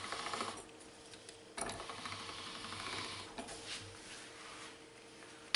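Fresh pasta dough fed through a hand-cranked pasta machine for a final thin rolling, a steady soft mechanical whirring and clicking of the rollers with a louder burst partway through, close by and without talk.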